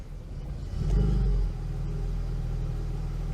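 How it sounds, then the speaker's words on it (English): The 3.0-litre engine of a 1980s Vauxhall Senator B 3.0i CD, which has a faulty exhaust, starts, swells into a short deep rev, then settles into a steady, low, rumbling idle, heard close. "So if I start the engine"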